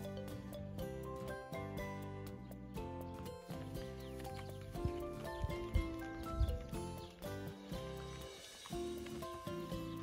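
Horses clip-clop along with an occasional whinny on a walk to a reservoir, heard faintly amid a busy mix of other sounds and background noise.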